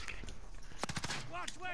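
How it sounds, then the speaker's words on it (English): Video game gunfire: a few sharp, close shots bursting out while voices talk over them. "Oh wait, who's shooting me?"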